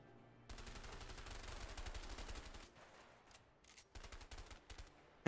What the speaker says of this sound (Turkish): Hey, kafandan vurdum.